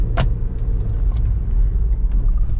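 A car passing on a road, a loud close rumble of engine and tyres sustained throughout with a brief sharp click near the start.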